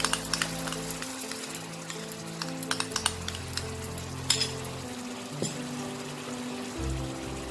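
Beaten sour curd goes into cooked masala in a pan over lowered flame for Kolkata-style hilsa biryani, bringing a close, continuous sizzle with crackles, a few spoon knocks and stirring scrapes. Nobody speaks.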